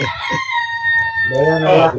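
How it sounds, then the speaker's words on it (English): A rooster crows nearby in a full, rising-and-falling cock-a-doodle-doo that fills most of the two seconds, with a short clucking note just before it; nobody speaks. "Somebody got a rooster."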